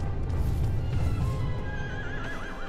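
A horse neighs and whinnies in the video game Shadow of the Colossus, a shrill wavering call rising over a rumbling backdrop with faint hoof clatter.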